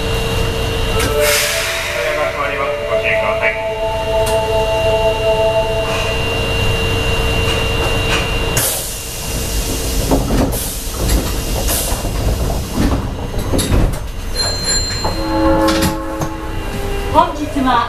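An Osaka Municipal Subway Sennichimae Line train departs from an underground station, with a loud sustained rumble, hissing air and rising motor whine. A station announcement plays over it.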